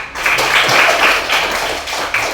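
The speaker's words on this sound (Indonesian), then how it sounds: "Oke, tepuk tangan." Schoolchildren in an Islamic studies class clap their hands together in a brisk, continuous patter of many close, overlapping claps.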